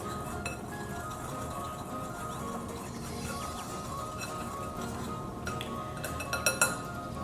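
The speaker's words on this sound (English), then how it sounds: "I'm going to add in some baking powder and some salt. And then I'm going to whisk it together." A whisk stirs flour, baking powder and salt in a glass bowl, light metallic clinks and taps against the glass, quiet and close, with a few sharper knocks near the end.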